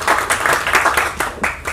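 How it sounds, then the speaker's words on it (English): Audience applause for Neeraj at an event marking a new version of the national anthem, a dense burst of many hands clapping that swells and ebbs in waves, close and loud, with no talking over it. "Big round of applause for Neeraj."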